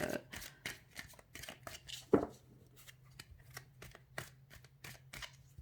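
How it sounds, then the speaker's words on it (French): Tarot cards are shuffled and laid down on a table in a quick run of soft, papery slaps and riffles, with one sharper snap near the middle, while someone talks quietly throughout. "J'aime bien remettre une carte par-dessus."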